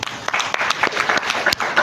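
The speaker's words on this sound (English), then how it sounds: "Would you clap for them?" Audience clapping in a lecture hall during a financial leadership masterclass at a university, a steady dense patter of many hands, moderately loud and close, with no speech over it.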